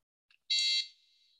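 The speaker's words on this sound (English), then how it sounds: "the red LED lit up and the buzzer made a sound" A short electronic beep from an RFID module's buzzer, triggered by a wrong RFID card, sounds once, sharp and high-pitched, after a tiny click, then fades quickly in a quiet room.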